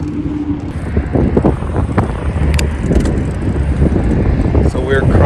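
Wind buffeting the microphone while riding a bicycle on a trail, with rumbling gusts and rattling bike mechanism noises throughout, loud and close.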